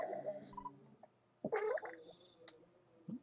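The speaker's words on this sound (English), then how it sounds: "That was a really weird burp" An odd, warbling burp sound effect from the video game Earthbound, with gurgling, croaky tones, a louder rough burst near the middle and a few short blips after it, fairly faint with no talking.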